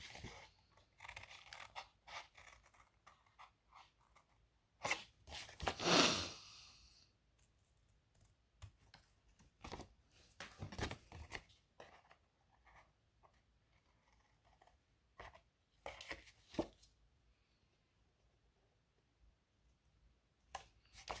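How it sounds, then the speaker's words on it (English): Scissors snip through a paper template set in short, scattered bursts of cutting and rustling, separated by quiet pauses, close and fairly faint. "this is just to give you an idea of how easy or difficult it is to cut this template set"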